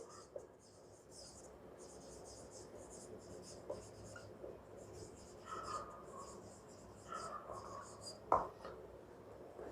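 Pen or chalk strokes scratching steadily during a Class 11 maths lesson on sets, a soft continuous writing rasp with brief pauses and one sharper tap near the end, faint against the room.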